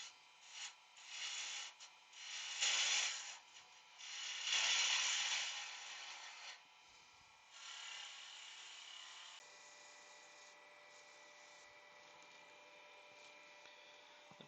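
A wood rasp scrapes timber while a wooden Easter bunny is roughly shaped, giving bursts of rough rubbing strokes that are faint and close. Quieter, steadier scraping follows.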